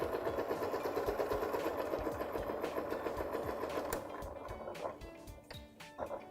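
Sewing machine top stitching along a folded seam, with rapid, even mechanical stitching running close and steady. It then slows into short, broken bursts of a few stitches for back tacking at the end.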